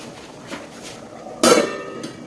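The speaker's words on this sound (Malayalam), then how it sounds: "സ്റ്റീലിന്റെ മൂടി വരുന്നല്ലോ" A steel pot lid clanks once, loud and close, against a pot in a home kitchen where curry is cooking, with a fainter clink just after and soft handling noise before it.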